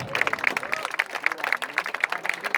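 Applause at an outdoor folk music evening in Capo Comino for a group from Siniscola, lively clapping with a few hands beating in steady rhythm, close and brisk.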